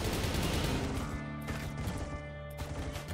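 Gunfire in the video game RimWorld, a dense volley of overlapping shots that fills the soundscape, loud and continuous at first, then easing into scattered bursts.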